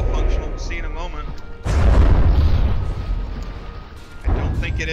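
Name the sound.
cannon firing in the video game From the Depths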